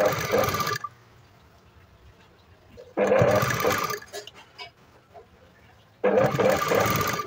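A sewing machine runs in three bursts of stitching right along the fabric edge, each loud and close with a steady whirring motor, separated by quiet pauses filled with faint handling clicks.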